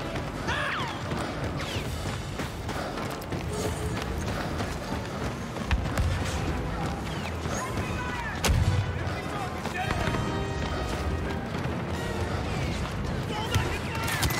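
Continuous battle din in Star Wars Battlefront 2, with dull artillery thumps, scattered gunfire and crashing impacts layered throughout, under intermittent talking.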